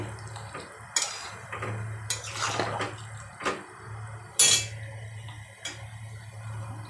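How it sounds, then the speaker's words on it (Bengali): Shukto vegetables are stirred in a pot, with intermittent scrapes and knocks of a spoon against the pot over a low bubbling simmer, close by and with no voices. "দিয়ে ভালো করে নাড়াচাড়া করবো আর একটু হবে"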